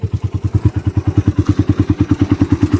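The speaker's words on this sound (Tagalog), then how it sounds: "inaayos lang po yung ilaw ng kanyang motor" Motorcycle engine idling close by during repair work on its light, a steady rapid chugging pulse of loud, evenly spaced low thumps with no talk over it.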